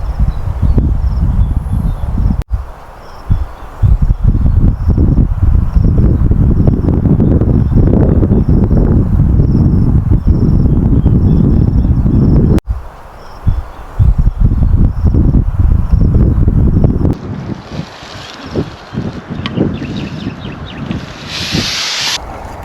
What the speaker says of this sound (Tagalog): May ihip yung hangin.